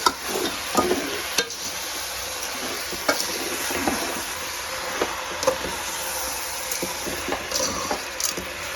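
Chicken pieces, 1.5 kg with salt, being mixed and stirred in a pot for a Tamil Nadu style chicken kulambu, giving steady scraping and sizzling with occasional spoon knocks, close and continuous with no talk.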